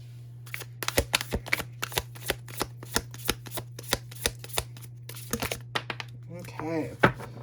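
Tarot deck being shuffled by hand, a string of crisp, quick card riffles and flicks in an uneven rhythm, close and clear over a low steady hum, ending with a brief crinkling flourish.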